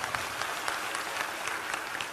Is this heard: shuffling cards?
no